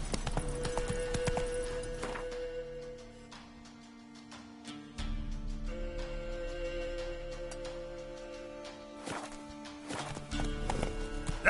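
Roach the horse walking in The Witcher 3, with a steady clip-clop of hooves close by, accompanied by a tonal background score and a brief louder swell near the end.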